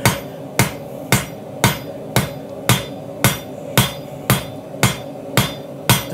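A cross peen hammer draws out the width of a hand-forged knife blank with an integral bolster, ringing in about eleven sharp, evenly spaced metallic strikes, close and loud with no talk.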